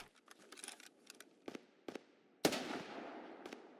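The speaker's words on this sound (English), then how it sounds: "They're just very suppressed shots way out in the distance." Distant suppressed gunshots in the video game Escape from Tarkov on the Shoreline map: a quiet scatter of sharp cracks with a louder, echoing shot near the end, faint and far off with no talking.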